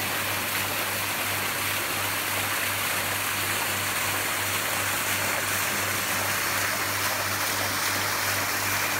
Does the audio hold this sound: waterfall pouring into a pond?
yes